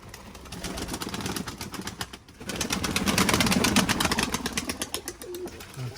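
Pigeons take off on a damp, rainy day, their wings clattering in rapid flapping bursts against steady outdoor background noise, moderately close.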